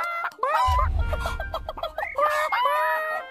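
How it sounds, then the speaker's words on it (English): Hens cluck in a farmyard-style chorus of clipped, rising calls and a screechy cry, close and fairly loud over a low rumble, with short gaps between bursts. "Now we're all being hens."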